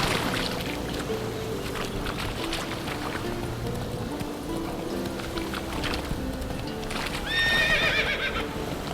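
Roach, the horse in the video game The Witcher 3, gallops with rapid clip-clop hoofbeats throughout and gives a clear, loud neigh near the end.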